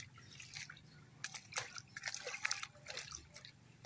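Irrigation water runs and drips in a rice-field setting, a faint irregular patter of drops and trickling over a low background hum.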